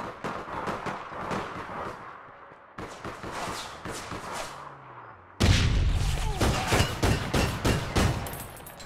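Gunfire in the video game APB Reloaded crackles in rapid, repeated shots. The volleys grow sharply louder and denser partway through.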